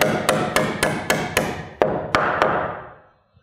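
Hammer blows drive a nail into a wooden sub fascia board during roof framing, about ten sharp, evenly spaced strikes ringing close and loud, then stopping.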